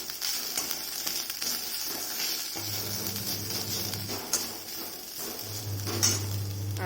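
Cumin and turmeric powder being stirred into okra in a pan: a soft sizzle with scraping strokes and light utensil knocks over a low steady hum.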